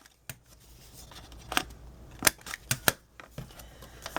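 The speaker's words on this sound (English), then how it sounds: "And then I round the corners on the bottom." A corner rounder punch cuts the bottom corners of a paper envelope, giving sharp, crisp clicks at irregular intervals amid quiet handling of the paper.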